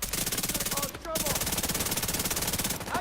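Rapid automatic turret gunfire from The Division 2 shooter game, a dense unbroken stream of loud shots lasting nearly the whole time, with a brief gap and a few short electronic tones midway.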